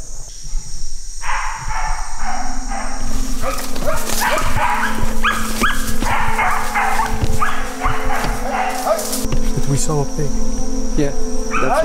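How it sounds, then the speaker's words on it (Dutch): A hunting dog barks repeatedly in the Amazon rainforest, the short barks coming in bursts at moderate distance over a loud, constant chorus of buzzing insects and crickets. "de hond ruikt een dier op een afstand en is getraind om dan te gaan blaffen"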